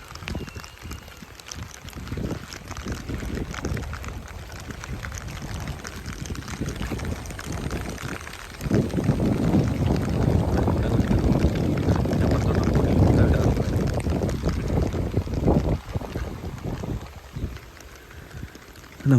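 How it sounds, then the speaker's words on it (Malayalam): Wind gusts and lapping waves on a lake, heard from a small boat: a broad rushing roar that swells louder midway, with splashy water texture and microphone buffeting, no voices. "നല്ല കാറ്റുമുണ്ട്, നല്ല ഓളമുണ്ട്."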